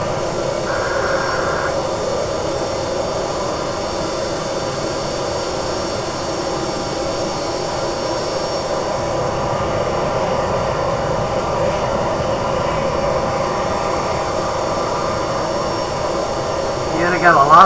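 Jet engine of a Boeing airliner taxiing at an airport at dusk, a steady loud roar and hum that holds level throughout with no break.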